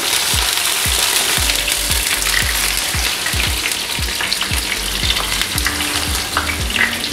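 King fish slices frying in hot oil with curry leaves, a loud dense crackling sizzle with rapid spitting pops throughout, close and continuous.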